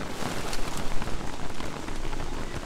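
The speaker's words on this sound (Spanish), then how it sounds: "La lluvia está haciendo que baje la temperatura." Steady rain falls in the game Don't Starve, a dense, loud hiss of drops pattering on surfaces without pause and with no voices over it.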